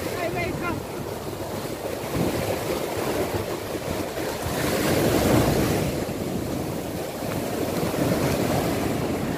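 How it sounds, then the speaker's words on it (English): Ocean surf rolls onto a beach in a continuous loud wash, swelling around the middle, with heavy wind buffeting the microphone throughout. "Look, why the wave is like that?"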